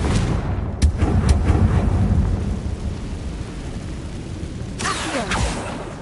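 A Confringo fire spell bursts in Hogwarts Legacy as a loud booming blast with rumbling tail, followed by a second sharp burst near the end.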